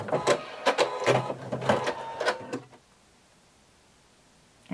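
A sewing machine running a narrow zigzag stitch on swimsuit fabric, rapid mechanical stitching in short bursts for under three seconds, then it stops and near silence follows.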